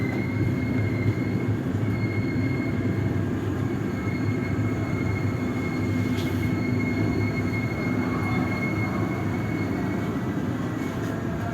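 A train rolling into Bekasi station with a steady, loud rumble of wheels on rail throughout, faint squeal tones above and no talking.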